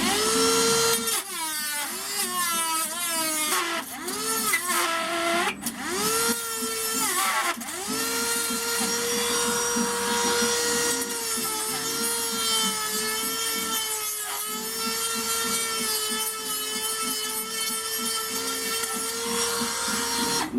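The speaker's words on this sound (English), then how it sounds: "go ahead and Dremel this bottom out" A Dremel rotary tool whines continuously while hollowing out the bottom of a wooden flute, a loud, close, high-pitched grinding that dips in pitch as it bites into the wood, with no speech.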